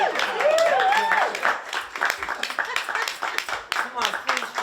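Audience clapping and cheering for two men, Dave and Tom, after a show at sea, a lively mix of claps with people talking and calling out over them.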